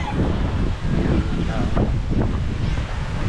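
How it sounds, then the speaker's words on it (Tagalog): Strong wind roars and buffets against the microphone, a dense continuous rush that swells and dips, with faint voices mixed into the noise. "nagpaparamdam na yung hangin, malakas na hangin"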